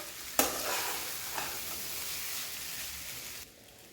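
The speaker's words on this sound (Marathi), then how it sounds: "तर आपण ह्याला चांगलं मिक्स करून घेणार आहोत." Paneer pulao mixture stirred in a pan over a low flame, a steady soft sizzle with a sharp scrape of the spoon near the start and another lighter scrape later, fading quieter at the end.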